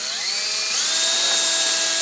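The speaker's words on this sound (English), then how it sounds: "And drill two holes" A power drill drilling holes in a box whirs continuously at close range, its motor pitch rising partway through and then holding steady.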